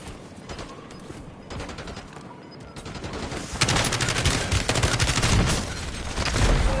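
Dense gunfire and bursts of automatic weapon fire in the Call of Duty Warzone video game, loud and continuous, growing heavier and more intense toward the end of the clip.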